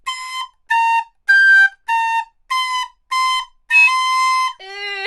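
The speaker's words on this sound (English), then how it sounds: "Why beginner recorder players sound like this?" Beginner recorder played with detached tonguing: seven short, bright, whistly notes in a steady rhythm, the last one held longer and turning squeaky and shrill, with no talking.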